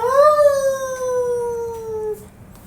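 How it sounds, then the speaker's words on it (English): A single long, clear wolf howl carries from a distant hill, holding a steady gliding pitch for about two seconds before cutting off, alone against a quiet background. "A howl went up from a distant hill."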